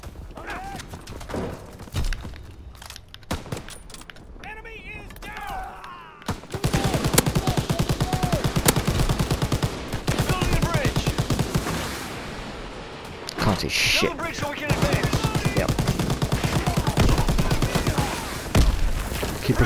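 Game gunfire rattles along a beach battlefield in Call of Duty: WWII multiplayer, quiet and sparse at first, then dense, continuous volleys from about six seconds on, with brief lulls and voices talking over the shooting.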